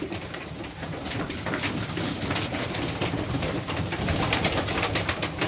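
Serbian Highflyer pigeons coo softly at a loft, low murmuring calls repeating over a steady background hiss, fairly faint and without talk.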